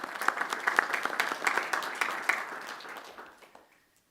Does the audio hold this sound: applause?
yes